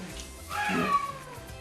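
A single drawn-out kitten meow, clear and close, rising then falling over about a second, in a quiet room.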